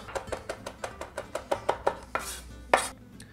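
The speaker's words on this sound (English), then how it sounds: "Now you're going to take your chef knife, and we're just going to give this a little rough chop" A chef's knife makes a steady run of about a dozen crisp, evenly spaced chops through lemon zest on a cutting board. Each knock lands close and distinct, and a few louder strikes come near the end.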